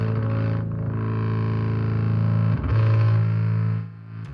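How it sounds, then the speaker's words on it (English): A heavily fuzzed, distorted bass guitar drones with a thick buzzy tone, holding one low note before shifting and fading slightly at the end. "Like the distortion on this, I mean, really, should you be running distortion through bass?"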